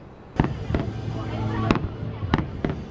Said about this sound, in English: Haley, hundreds are at Navy Pier to watch the fireworks, which are a treat like no other.